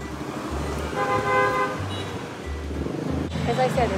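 Busy street traffic in Hanoi, Vietnam, with several short car horn toots over a steady rumble of passing motorbikes and cars, a voice talking briefly amid the din.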